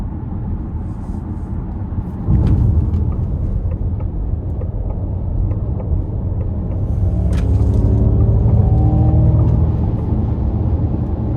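A 2025 Ford Mustang Mach-E GT Performance electric car accelerates hard on a test drive, a loud steady road rumble heard from inside with rising whine tones as speed builds.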